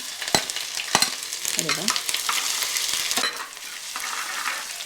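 Ginger and curry leaves sizzle and crackle steadily in hot oil for a Trivandrum-Kottayam style king fish curry, with stirring clicks and a few brief words spoken over the frying.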